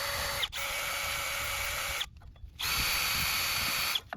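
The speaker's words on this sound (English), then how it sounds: "Then sand down the contact points where the shoes ride." A close power sander buzzes steadily in three bursts on drum brake backing plate contact points, pausing briefly twice, with a short gap of quiet in the middle; no one speaks.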